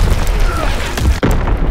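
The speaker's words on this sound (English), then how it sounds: "Incoming enemy artillery" Enemy artillery explosion in Call of Duty WW2 during a ranked Demolition match: a heavy boom thuds in around the one-second mark over constant battlefield rumble and noise, then a sharp crack follows just after.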